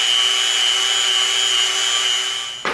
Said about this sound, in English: we're gonna come in with the Dremel